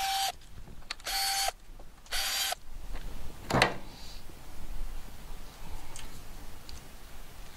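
Mechanical clicks and ratcheting from work on a BMW R1250 RH motorcycle engine while the cam solenoid is removed: a few loud buzzing bursts at the start, then one sharp metallic tool click and faint ticking, close and without speech.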